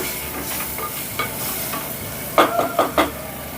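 Cauliflower curry simmers and sizzles in a pan over a medium flame, with a steady frying hiss and a few sharp scraping clicks of stirring near the end.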